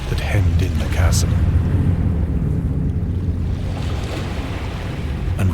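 Water lapping and washing against the base of a towering stone monolith in a moonlit chasm in the PC game Dagon, a steady low wash with soft wind-like noise throughout, under a narrating voice.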